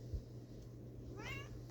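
A pet cat lets out one short, faint meow near the end, over low steady room hum in a quiet bedroom.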